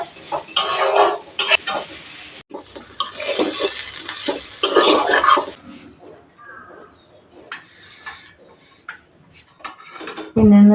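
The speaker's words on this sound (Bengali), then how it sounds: "এক মিনিট নেড়ে নামিয়ে নেব" A spoon stirs fried taro flowers in a pan, scraping and rubbing in bursts for the first half before fading to lighter scattered clinks and a final loud knock.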